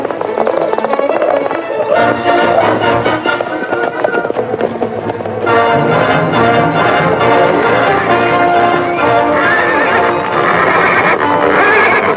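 A horse in an old western film neighs and whinnies loudly, mixed with a dense, loud musical score that swells throughout.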